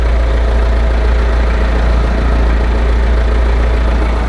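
A Tata mini pickup truck's engine idles, heard up close as a loud, steady low rumble with a faint rhythmic knock and no pauses.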